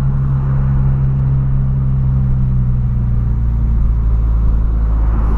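Inside a lowered Volkswagen Gol G6 on the move, a steady deep engine and road rumble holds evenly throughout, with no voices.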